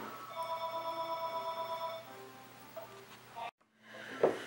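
In a video game cutscene, a telephone rings with a rapid, regularly pulsing electronic trill for about two seconds, then stops. Quieter game sounds follow, with a brief drop to silence.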